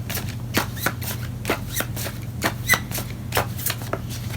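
Tarot cards being shuffled during a Leo reading, giving a steady run of crisp riffling slaps and flutters at close range over a low constant hum, with no talking.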